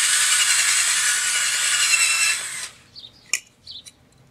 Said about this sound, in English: I'm going to come in with a step drill like this and just kind of come in and make it a little bit larger